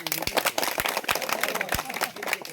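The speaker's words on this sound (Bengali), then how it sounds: "এই জন্য একটা হাততালি দেন সবাই" An audience at a development project inspection in Babuganj, Barishal breaks into applause: scattered, uneven handclaps with a few sharp close claps, voices murmuring underneath.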